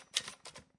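Keyboard keys are pressed during keyboard-only navigation of a web page, tab and spacebar: three quick clicky taps spaced apart, close and fairly quiet, with no voices.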